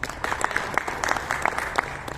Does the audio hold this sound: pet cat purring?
no